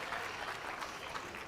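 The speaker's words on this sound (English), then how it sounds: "Big round of applause for our adults for getting out here and doing this and participating" Faint applause from the crowd at a school livestock cattle show, a continuous wash of many hands clapping, quiet and distant throughout.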